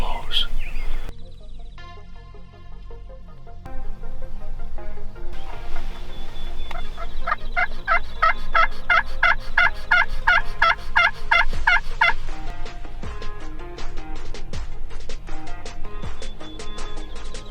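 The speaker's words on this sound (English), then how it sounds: "There's a couple gobblers going off right over the hill here in the valley." Wild turkey gobblers gobble in a Wisconsin valley a couple hundred yards away, rapid rattling gobbles carrying clearly from a distance, with a person whispering nearby at times.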